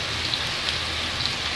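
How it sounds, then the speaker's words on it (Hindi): Spice masala with turmeric and chili powder frying in a pan for mutton, a brief, even, close sizzle like rain on a surface with a few faint ticks, no voices. "सबसे पहले इसको अच्छे से मसाले को थोड़ा भून लेते हैं।"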